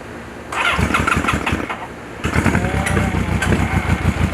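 A motorcycle engine with a stubborn cylinder that resists firing cranks in a rapid, loud chugging rhythm, pauses briefly, then cranks again and sputters as it tries to catch, close up with no talk.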